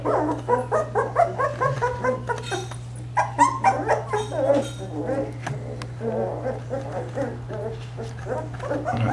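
Vizsla puppies yipping and barking in rapid overlapping high-pitched bursts with some whimpers, close by over a steady electrical hum.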